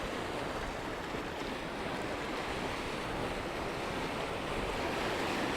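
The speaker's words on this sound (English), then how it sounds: "the lovely sound of the waves crashing on the rocks" Sea waves crash steadily against the rocky shore at Camp de Mar on Mallorca, a continuous loud wash of surf with some wind buffeting, heard alone with no voices.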